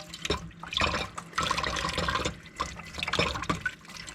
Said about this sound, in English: the first thing you do with lobster mushrooms is you take a little brush and you rinse